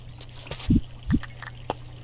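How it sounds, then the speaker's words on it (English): Filling a watering can in the Dinkum video game: two short, splashy liquid bursts, close and clear, over a quiet, steady game background. "Fill my watering can."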